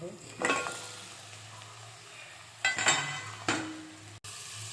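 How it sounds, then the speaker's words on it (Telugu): Mutton marrow bones hit a pan of well-fried onions, sizzling softly under a few sharp scrapes and stirs of a utensil against the pan, with faint background hum. "ఆనియన్ బాగా వేగినాక ఇప్పుడు మనము నల్లి బొక్కలు వేసుకున్నాం"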